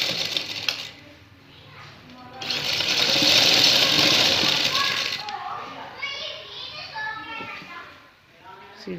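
A sewing machine stitches along a shalwar sleeve, a fast whirring run in the middle flanked by quieter stretches, with children's voices and chatter nearby.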